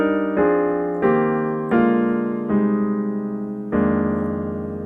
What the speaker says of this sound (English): I'm just moving each note to the next possible note in the F Dorian scale.